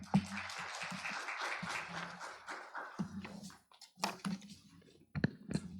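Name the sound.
audience applause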